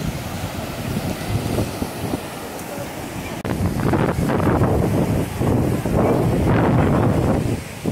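Ocean surf rolls in at a white-sand beach in Arraial do Cabo, with waves washing steadily under heavy wind buffeting the microphone, which grows louder partway through.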